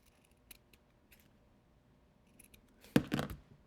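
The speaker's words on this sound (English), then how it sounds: "Just cut it along this line here." Scissors cutting along a pen-marked line on the edge of a paper roll for a mini book, a short close burst of snipping near the end after quiet faint ticks.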